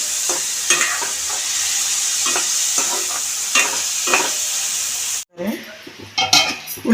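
Finely chopped onions fry in oil in a pan with a dense, loud sizzle and repeated stirring scrapes, then the sizzle drops away briefly before clinks and stirring return.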